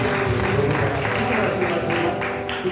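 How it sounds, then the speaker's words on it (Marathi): A church congregation claps loudly during a worship service in a continuous wash of applause over steady musical tones and crowd noise. "आपण जोरात टाळ्या वाजवून"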